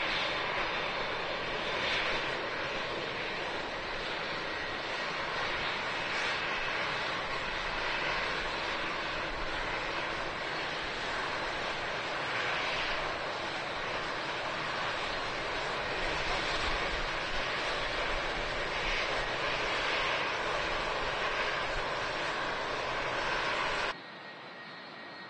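A Boeing 787 Dreamliner departs Manchester Airport, its jet engines making a loud, broad, steady roar that holds for over twenty seconds before it cuts off abruptly. No voices are heard.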